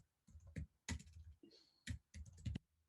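Someone types on a computer keyboard, with quiet, close clusters of keystrokes tapping out in short bursts separated by brief pauses.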